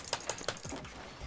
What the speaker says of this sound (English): Angry clicking intensifies.